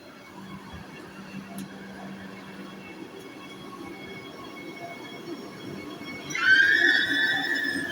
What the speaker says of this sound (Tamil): ட்ரெயின் மூவ் ஆயிடுச்சுங்க.